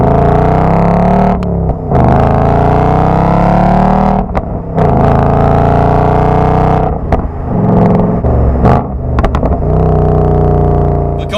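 A 2019 Ford Mustang Bullitt under way, its V8 engine and exhaust loud and close, surging through rising revs and rumbling between gear changes, with short lifts off the throttle.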